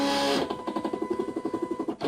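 Rapid, regular mechanical chattering from a Cameo vinyl cutter cutting glitter heat transfer letters, steady pulses of a small motor and blade moving back and forth, close by.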